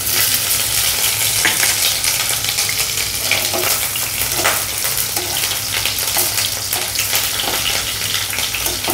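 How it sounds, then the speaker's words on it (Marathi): Onion and coconut frying in hot oil in a kadai on a gas stove, a steady dense sizzle and crackle holding at an even level throughout, with occasional stirring scrapes and no talk. "आपण त्याच्यामध्ये कांदा आणि खोबरं भाजून घेणार आहोत"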